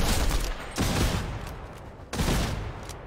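Gunfire from computer-controlled bots in a video game, heard as dense bursts of rapid shots in two loud waves with a brief lull between.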